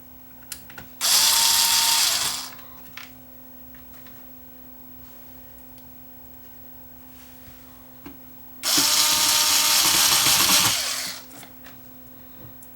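A powered screwdriver driving screws into the brittle plastic housing of a Pioneer X-CM30 CD unit, two loud whirring bursts of about one and two seconds, separated by a quiet stretch with a faint steady hum.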